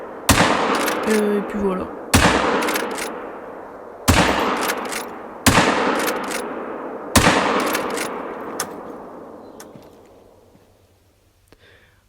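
Five loud, sharp rifle shots from a hunting rifle in theHunter: Call of the Wild, evenly spaced about two seconds apart, each with a long echoing decay that fades out at the end, with brief talk between them.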